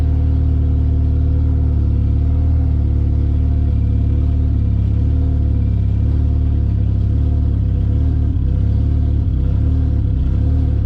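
Honda K24 engine swapped into a 1983 Volvo 240, running roughly on first start with a throttle position sensor fault: a loud, close, continuous engine drone with an uneven, wavering idle and some clatter.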